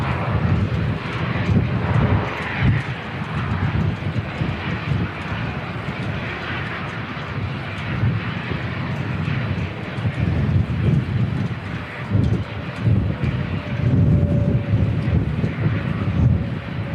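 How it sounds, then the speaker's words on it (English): An Australian Air Force military aircraft flies near Christchurch airport, its engines making a loud, sustained roar that stays steady throughout, with wind buffeting the microphone. "this Australian Air Force aircraft that's come in"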